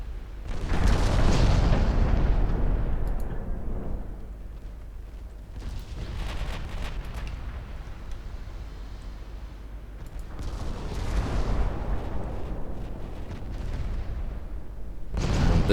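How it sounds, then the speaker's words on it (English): Battleship 5- and 7-inch guns firing in the naval game Ultimate Admiral Dreadnoughts, a series of deep booming blasts spaced a few seconds apart, each trailing off into a rumbling roar. "See that the 5 and 7-inch guns on the battleships are"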